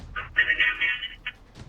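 A phone notification goes off nearby: a short electronic tone, a longer sustained chime, then one more brief beep, with faint room noise around it.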